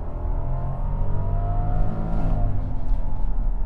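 A 2020 Rolls-Royce Cullinan pulls away from a complete stop, its smooth engine swelling into a steady, rising hum, moderately loud and continuous with no voices over it.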